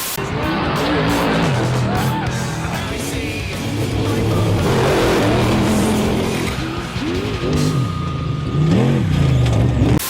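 Old-school trophy trucks race hard through Zoo Road in San Felipe, Baja, with loud continuous engine roar and tire noise filling the whole stretch while a voice talks over it.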